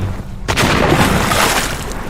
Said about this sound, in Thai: ไม่นานประทัดนั้นก็ระเบิดขึ้นเสียงดัง